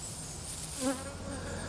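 Honey bees buzzing around an open beehive while supers are worked, a faint steady hum with one bee passing briefly closer.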